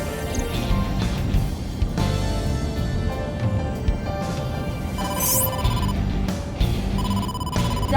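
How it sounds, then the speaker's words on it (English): A cell phone rings with an incoming call in the game AI: The Somnium Files, a steady electronic ringtone repeating over game music and background sound, with a rising chime near the end. "incoming call from the boss"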